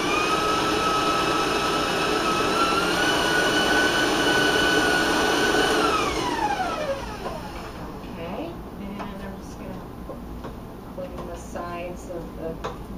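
Electric mixer beating chocolate applesauce cupcake batter, loud and steady with a high whine, then the pitch sweeps down as the speed drops around the middle and it carries on more quietly, with talk over it.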